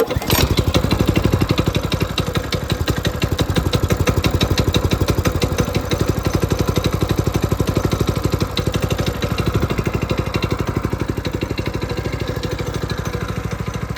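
A small minibike engine on a cold start, catching at once and then idling in a loud, steady, rapid putter close by for the whole stretch, with no voices.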